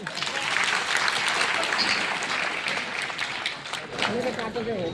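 Audience clapping at a business motivational gathering, a broad, continuous patter of many hands with voices faintly mixed in, holding steady before a brief swell near the end.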